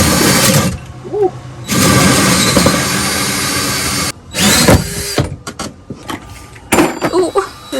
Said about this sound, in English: I need it on drill mode.